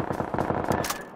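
A video game bot fires a rapid automatic burst, a quick stutter of roughly a dozen evenly spaced shots in about a second, loud and close.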